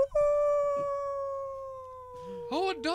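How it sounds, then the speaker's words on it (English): A dog howls in a long, sustained, wavering note that dominates the clip, followed by shorter yelping cries near the end. "they heard a howl in the distance"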